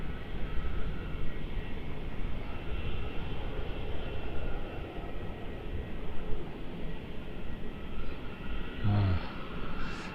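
A China Airlines jet landing at Melbourne Airport gives a steady broadband roar that holds at a constant level throughout, loud and continuous, with a brief low thump near the end.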